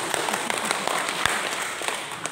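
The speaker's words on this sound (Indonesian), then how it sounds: "Tepuk tangan sekali lagi." Applause at a closing ceremony for a teacher training program in Manggarai, a fairly quiet patter of clapping from a seated audience, with a few sharper individual claps standing out over the steady crowd sound.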